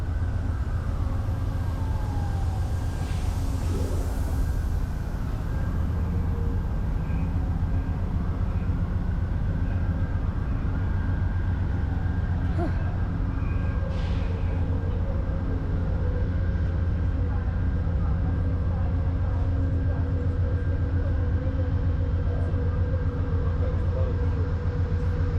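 Steady rumble and rolling drone of the Amtrak Crescent passenger train in motion, heard from inside a car, continuous and fairly loud for the whole stretch with faint higher squeals over the low roar.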